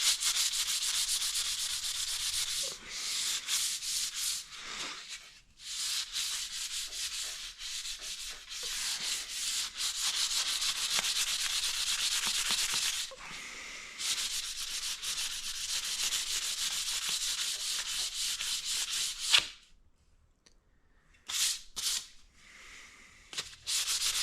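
Sandpaper rubbing along a wooden Comanche short bow, close and loud with rapid back-and-forth strokes in long runs, broken by short pauses and a near-silent gap toward the end before sanding resumes.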